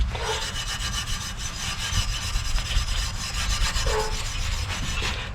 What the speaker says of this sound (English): You can see it's already getting a good bit of the rust off just by sanding it